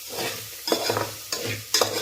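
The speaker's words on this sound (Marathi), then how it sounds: "तर शेंगा छान परतल्या गेल्यात" Green beans sauté in oil in a pan, stirred with a utensil in several quick scraping strokes over a soft, steady sizzle, close by and without talk.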